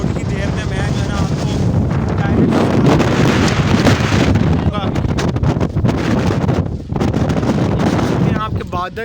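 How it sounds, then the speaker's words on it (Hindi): Strong wind blows outdoors in stormy weather with thunder and lightning, a constant loud roaring rush of gusts buffeting the microphone for the whole stretch. "बादल गरज रहे हैं, चमक रही है और हवा चल रही है"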